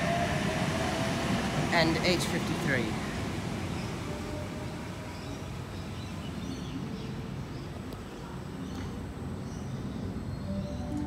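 A Sydney light rail train rumbles steadily past at close range on a platform, a broad low roar with some squealing and rattling, while a voice speaks briefly over it.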